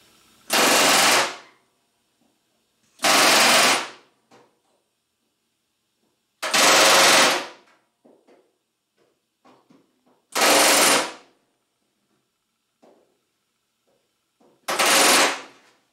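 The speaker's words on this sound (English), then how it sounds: "first up, we'll do riveting" A pneumatic rivet gun hammers rivets during aircraft construction in five loud, close bursts of rapid rattling impacts, each about a second long, separated by quiet pauses with faint handling noises.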